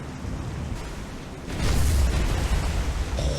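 A naval ship explodes in the War on the Sea video game during a destroyer-versus-light-cruiser battle: a dense rumbling roar swells about halfway through and holds loud, with no speech.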